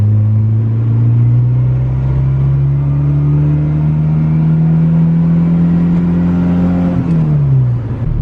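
A turbocharged Honda Civic EG Type R pulls hard in second gear, its engine note rising steadily and loudly for several seconds before easing off near the end, with no talking over it.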